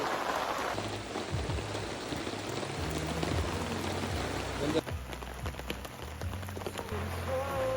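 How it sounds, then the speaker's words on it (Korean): Heavy rain drums steadily on a camping tent, a dense unbroken patter with occasional louder drips close by. "와, 비 많이 오네"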